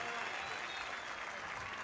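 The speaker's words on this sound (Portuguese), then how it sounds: "E palmas para Ryan Gold" A football crowd at a Sporting friendly match against an Azores team applauds for Ryan Gauld, thick continuous clapping from many hands that stays broad and steady, with a faint commentary voice running beneath it.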